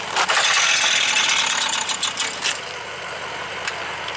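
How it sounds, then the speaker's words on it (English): A power saw cutting through material at an evening demo, a loud, dense grinding rasp running continuously with brief flutters and surges, close by and steady throughout. "he has a fucking saw. He's cutting something."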